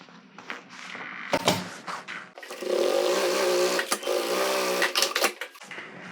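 A sewing machine topstitches the fabric of a toiletry bag in short close bursts of rapid needle clatter, with pauses and handling knocks between runs.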